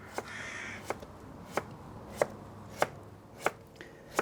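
A knife cuts a potato into thin matchsticks for rosti on a board, giving seven crisp, evenly spaced chops that land about every two-thirds of a second, close and clear.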